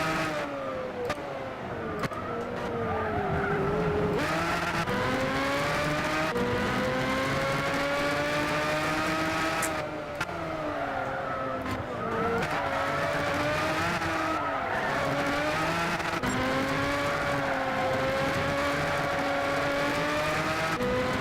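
A race car in Gran Turismo Sport laps a circuit with its engine wailing steadily, rising and falling through gear shifts and repeated bursts of tire squeal, loud and continuous for the whole stretch with no voices.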